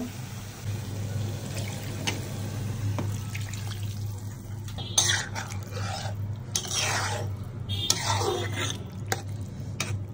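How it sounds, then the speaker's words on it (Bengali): Water is poured into a pan of dried fish curry cooked with seed-filled flat beans. It makes a few splashing, gurgling bursts in the second half over a steady low kitchen hum, with no talking. "আমি এখন একটু পানি দিয়ে দিব।"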